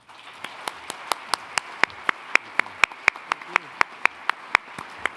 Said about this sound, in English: Please give our deans a round of applause